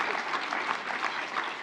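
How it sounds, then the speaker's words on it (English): An in-person audience at a medical talk on post-radiation fibrosis and trismus applauds the panelists, a full, continuous round of clapping with slight swells in intensity, heard close and without any talking over it. "Let's give one more round of applause for Wade, Heather, and Terry for sharing their expertise."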